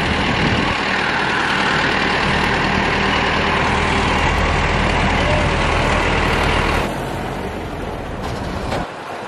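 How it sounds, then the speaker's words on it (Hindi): A tractor pulling a loaded trolley of soil rumbles past close by at a home construction site, a loud continuous heavy engine drone that holds steady for about seven seconds, then drops and fades as it moves away. "ये निकल गया एक ट्रैली, अभी दूसरी ट्रैली जाएगी।"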